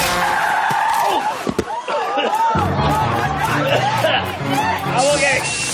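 A bus skids loudly with screeching tyres as it strikes a person at a party scene, a long squeal amid an excited crowd babbling and people shouting nearby.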